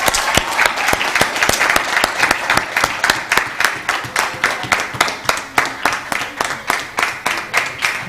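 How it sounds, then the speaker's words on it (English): Audience applause at a scientific conference award ceremony as the best poster prize is announced, a steady dense wave of clapping from a room full of people sustained for several seconds, with faint voices mixed in. "Big round of applause for Maria, please."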